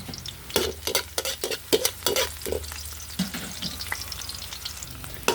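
Garlic and onion sauté in a pan for bopis, a continuous hot sizzle broken by a rapid series of sharp spatula scrapes and stirs against the metal, close and with no talking.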